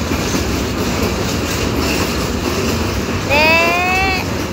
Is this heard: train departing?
yes